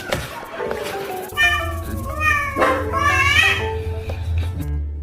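Several cats meow and yowl close by, rising wails layered over one another amid a busy household, with faint background chatter and a low steady hum.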